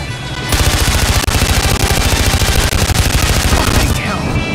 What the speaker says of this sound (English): There's a gun underneath the dashboard!